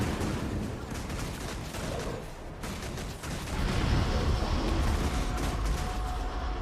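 Gunfire aimed at a dragon in the video game Guild Wars 2, a dense, continuous barrage of rapid shots and booming blasts that grows heavier in the second half, with no pauses.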